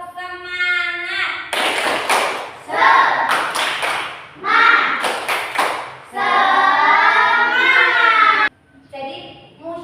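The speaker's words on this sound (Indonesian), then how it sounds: "Ice breathing dulu biar semangat. Tepuk semangat." Indonesian classroom of children doing a rhythmic spirit clap, bursts of patterned clapping alternating with loud chanted voices, close and lively.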